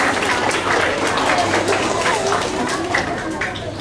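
Audience applause greets a student at an inter-house Hindi recitation competition at a school, a steady dense patter of clapping filling the clip, with talk mixed in over it.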